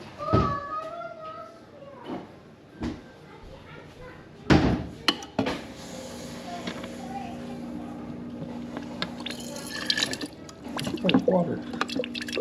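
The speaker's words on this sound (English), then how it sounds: "Now we got water coming out here." A refrigerator's front water dispenser trickles water into a cup at low pressure after its water inlet valve was replaced. Scattered drips and clicks come first, then a thin, steady stream with a faint hum, while a person speaks nearby.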